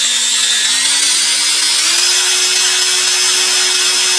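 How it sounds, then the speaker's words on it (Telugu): Power drill running continuously at high speed, loud and close, a steady whine with a shrill grinding edge and no pauses. "ఇప్పుడు టాప్ 3 డ్రిల్లింగ్ సౌండ్"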